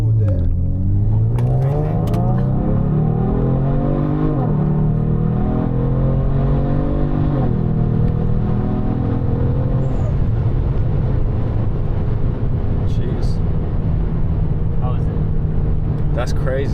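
A Genesis G70 fitted with a throttle response controller accelerates hard in sport mode on a test drive, its engine note climbing steadily through the gears with brief drops at each shift, loud and continuous from inside the cabin.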